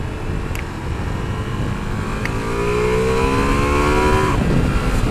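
A 2021 Ducati Multistrada V4S motorcycle fitted with an Akrapovič exhaust revs up, its engine note climbing steadily in pitch and loudness over a constant rumble, close and with no talking.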